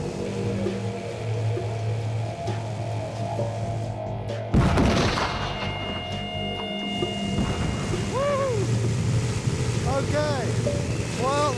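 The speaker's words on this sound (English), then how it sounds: "The explosion was in Band C at 8 o'clock." An artillery shell bursts on target in a wartime spotting setting, heard from an aircraft as one sharp, loud blast midway through a steady engine drone.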